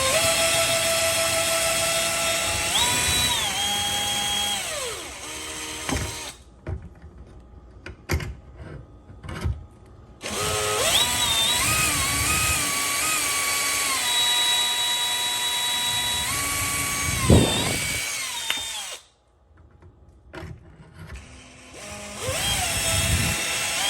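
A power drill bores a hole in wood through a Kreg cabinet hardware jig, loud whining bursts that rise and fall with pauses between runs, close up, and nobody talks.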